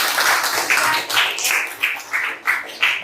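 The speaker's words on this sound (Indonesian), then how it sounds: "Beri tepuk tangan untuk kita semua" A classroom of students applauds together after a science lesson: loud, close clapping in regular bursts about three times a second, with no talking.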